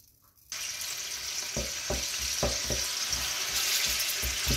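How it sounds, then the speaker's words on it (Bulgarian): Onion frying in oil in a pot, a bright steady sizzle that starts abruptly after a quiet moment, with repeated soft knocks of stirring beneath it. "Първо запържваме лука, за да омекне."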